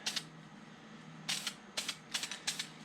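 A spray can mists primer onto a 1:350 scale Polar Lights TOS Enterprise model kit in about five short, close hissing bursts, with a pause after the first.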